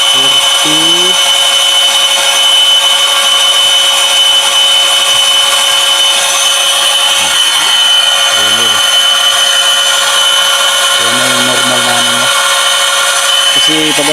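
A water pump motor runs on a hillside system that pushes water uphill to an overhead tank: a loud, steady mechanical drone fills the whole stretch while voices talk over it.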